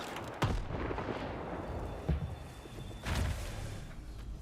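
Grenade explosions in the video game Stalker 2: three heavy booming blasts land about a second and a half apart over a rumbling in-game background, fairly close and loud, with no talk over them.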